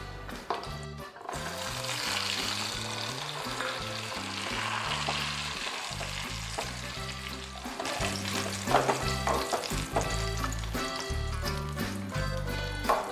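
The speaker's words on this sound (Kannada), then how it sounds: "ಲೈಟ್ ಬ್ರೌನ್ ಆಗುವಷ್ಟು ಹುರಿಬೇಕು" Cashews frying in desi ghee in a pan, a close steady sizzle with bursts of crackle and scraping stirring over a background of music.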